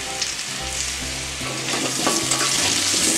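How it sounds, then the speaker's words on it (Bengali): Potatoes frying in a pan for a Bengali cauliflower and koi fish curry, a steady close sizzle with crackling bursts and light stirring scrapes throughout, no talking. "আলুগুলো আমি 2 মিনিট ভেজে নেবো"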